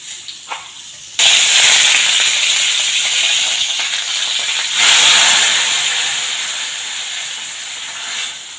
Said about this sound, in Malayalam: കറി ഒന്ന് കടുകർക്കട്ടെ കേട്ടോ കുറച്ച് കടുക് ഇട്ട് കൊടുക്കട്ടെ